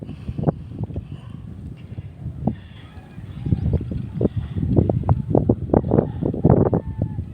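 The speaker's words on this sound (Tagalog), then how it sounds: "Mahangin dito guys." Gusty wind buffets the microphone on a hilltop view deck overlooking the town and the Abra River, rising into louder bursts in the second half, with faint bird calls.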